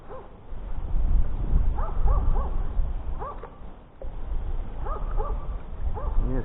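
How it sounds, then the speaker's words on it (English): A dog out on a Saskatchewan gold-hunting trip gives repeated yelping barks in short bursts of two or three, fairly close, over a rumbling outdoor background. "What's she barking at?"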